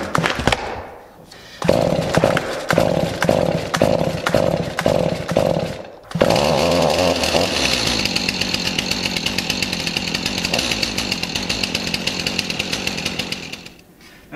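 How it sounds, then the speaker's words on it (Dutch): Flooded chainsaw being pull-started by hand: a series of rhythmic rope pulls with sputtering turnover, then the engine catches and runs at a loud, steady idle that rises and falls slightly, close up. "En dan gaan we gewoon trekken totdat hij loopt."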